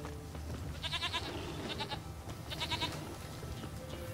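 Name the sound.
goat bleating in the video game Witcher 3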